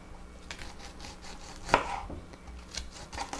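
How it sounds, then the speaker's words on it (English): Vegetables are chopped with a knife on a board, producing a series of soft close taps at an uneven rhythm, with one sharper, louder strike near the middle. "you can chop up any of your vegetables and put them in the soup also"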